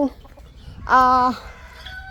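A guinea fowl on a guinea fowl farm in Sakon Nakhon, Thailand, gives a single loud, harsh call, with quieter bird sounds before and after.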